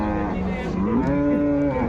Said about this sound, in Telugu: హెచ్ఎఫ్ ఆవు దూడ అయితే ఉన్నాయి